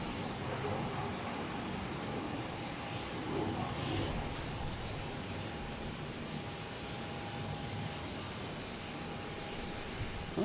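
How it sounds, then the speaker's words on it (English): United Boeing 737 MAX 9 airliner arriving from LAX at Boston Logan Airport: a steady, fairly distant jet engine roar with a faint whine, holding evenly throughout. "We have, looks like United coming in here, coming in from LAX."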